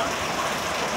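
Steady rain falls close by on a household outdoors, a dense, even hiss of drops with no break or change in level across the short stretch.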